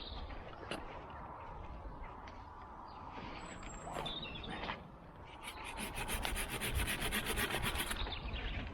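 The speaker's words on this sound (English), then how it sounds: "So for this, I'm going to use the saw." A hand saw rasps through a fruit tree branch during allotment pruning, steady back-and-forth strokes close by, faint at first and growing coarser and more rhythmic toward the end.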